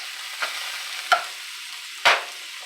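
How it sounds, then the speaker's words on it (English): Ground beef hamburger browns in a pan with a quiet, steady sizzle, broken by a few sharp scrapes and stirs of a utensil against the pan. "cooking me up some hamburger. Get this browned off"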